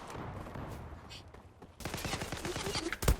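Gunfire from the video game Zula, a quiet stretch that breaks into a rapid burst of automatic shots with sharp closely spaced reports, ending on a louder final crack.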